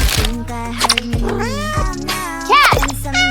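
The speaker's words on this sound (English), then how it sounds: "Cat!" A cat meows in a cartoon-style scene, a loud close mew or two set among bright music and sound effects, with a voice also heard.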